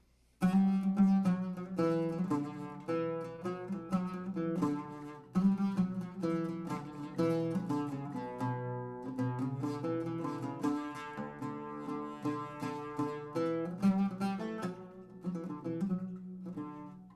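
A melodic instrumental passage in maqam Rast plays on a plucked string instrument, with phrases of rapid notes flowing continuously at moderate loudness, alone without any voices.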